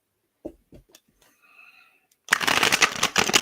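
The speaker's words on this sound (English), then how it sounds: "I'm shuffling and I'm going like this" Large tarot cards being shuffled, a few soft taps and slides at first, then a dense burst of rapid riffling flutter lasting about a second at close range.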